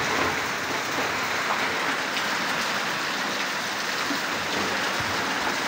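Steady rain falls throughout, a dense, even hiss of drops on surfaces with no pauses and no voices.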